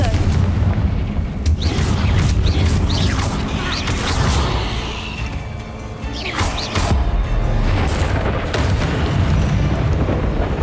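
Confringo fire spell blasts in Hogwarts Legacy, a series of loud booming explosions and crashes recurring through a busy stretch of game combat, with spell whooshes and impacts layered over rumbling low-end noise.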